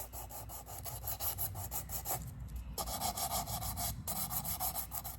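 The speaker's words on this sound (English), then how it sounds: "I grabbed some old files to start filing." Old hand files rasp back and forth in steady, quick strokes, a continuous scratchy grinding with a few brief pauses, close and fairly quiet.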